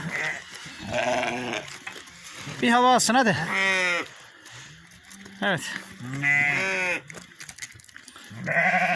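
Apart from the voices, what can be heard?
sheep and lambs bleating, lambs meeting their mothers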